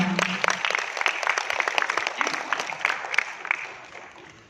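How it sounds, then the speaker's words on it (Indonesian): A crowd at a Prudential sales event claps enthusiastically, many hands in a dense, lively round that stays strong before easing slightly toward the end. "tepuk tangan buat Anda semua"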